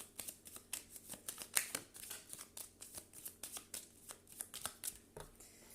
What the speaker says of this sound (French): je rebrasse encore un petit peu